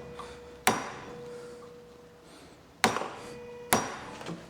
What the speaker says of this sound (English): So let's try to punch a hole in there.